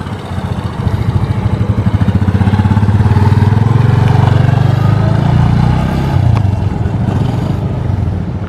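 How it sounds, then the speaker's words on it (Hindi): A motorbike revs and rides close by, its engine note rising to a steady loud drone before easing off, with a brief clatter near the end. "Chhotu is trying my bike."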